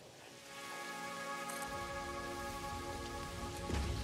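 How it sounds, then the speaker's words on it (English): Rain in the Satisfactory video game, a steady dense patter on a surface that swells and shifts in tone as the player moves under cover, continuous with no talk. "I do like the way the rain sound changes when you go undercover."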